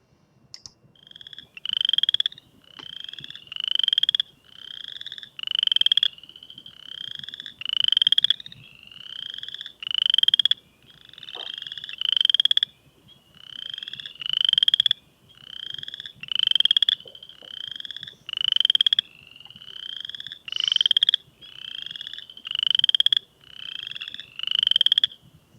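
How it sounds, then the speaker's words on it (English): Frogs calling in spring in northern Illinois, from ponds: a regular, repeating series of raspy trilled calls about every two seconds, clear and close, with nothing else audible. "if you hear this sound in April, then it's for sure it's a frog"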